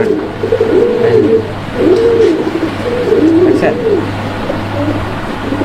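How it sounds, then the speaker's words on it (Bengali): Pigeons coo in repeated rolling phrases close by, a steady low hum running underneath, at a fancy pigeon market where birds are sold with their young. "আর পিছনে যেটা আছে ওটা হচ্ছে মাদি কবুতর"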